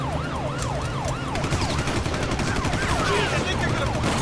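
Gunfire in the GTA V prologue mission: loud, dense bursts of shots and machine-gun fire crackling continuously under a wailing siren, with voices shouting over the chaos.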